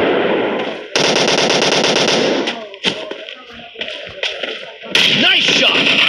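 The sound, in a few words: gunfire in a video game team deathmatch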